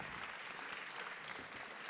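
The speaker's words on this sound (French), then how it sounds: "on vous applaudit pour ces propos" Audience applause for three speakers at the close of a panel discussion, a steady, fairly faint patter of many hands clapping for about two seconds with no talking.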